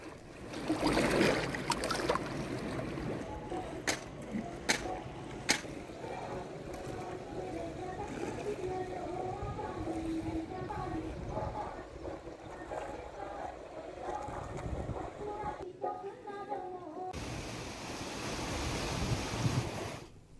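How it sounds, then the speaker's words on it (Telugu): Godavari floodwaters rush past the Pushkar ghat at Ramannagudem in a steady, broad roar of moving water with wind buffeting, and voices are heard faintly underneath. "రామన్నగూడెం పుష్కరఘాట్ వద్ద వరద భారీగా పెరిగింది"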